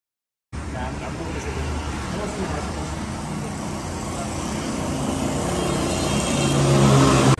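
A Massey Ferguson 385 tractor engine pulls up, a steady mid-range engine drone that grows gradually louder as it draws near, with people talking over it.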